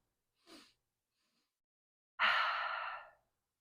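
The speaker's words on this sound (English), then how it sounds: "one of my favorite strategies to do to calm my body down is to do a double inhale and a long exhale." Calming breathing technique of a double inhale followed by a long exhale: a short, soft breath in, a pause, then a longer, louder airy sigh out, close and isolated in silence.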